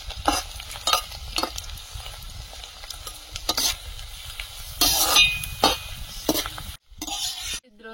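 Vegetables such as pointed gourd and greens fry in oil over a low flame with a soft sizzle, broken by repeated scraping stirs and light clinks of a utensil against the pan.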